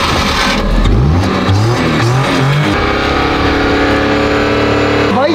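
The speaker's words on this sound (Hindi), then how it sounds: "गाड़ी को स्टार्ट करते हैं और देखते हैं कि ये जो गाड़ी है कितना पोल्यूशन फैलाती है" A car engine starts and revs hard at close range, its pitch climbing in repeated steps before settling into a loud, steady roar.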